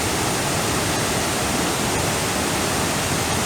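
Athirapally waterfall pours down in a dense, loud, unbroken roar of falling water that holds steady throughout, with no voices over it.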